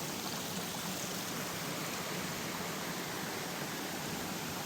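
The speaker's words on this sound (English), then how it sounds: "it's kind of like a little waterfall, lots of beautiful cascades. It's flowing quite well." Water rushing over the cascades at Peters Falls in Tallowwood, a steady dense roar of flowing water, continuous and close, with no voices.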